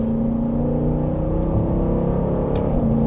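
Engine of a 2024 Dodge Durango SRT 392 AlcHEMI held in gear, a loud, steady, deep droning rumble with strong low harmonics and vibration, heard from inside the cabin without a break.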